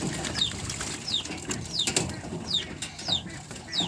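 Pigeons splash and flap their wings while bathing in water, with repeated bursts of wingbeats and light splashing at a moderate distance, and no talking.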